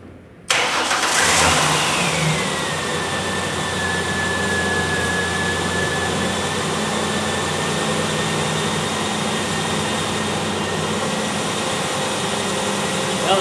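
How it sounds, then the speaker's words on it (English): A car engine cranks and catches after a brief quiet moment, then settles into a steady, even idle with a faint whine above it, close and continuous, cold and not yet warmed up. "Now I'm going to start the vehicle."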